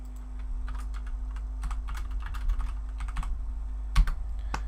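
Close-up typing on a computer keyboard, a quick irregular patter of light key clicks with one louder tap near the end, over a low steady electrical hum.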